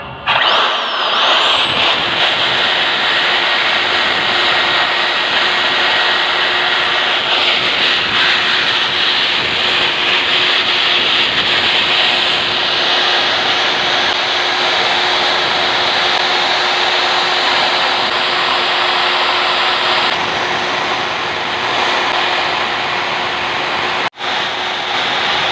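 Diamond core drill cutting into concrete, a steady loud motor whine with a constant tone holding for the whole stretch, briefly dipping near the end.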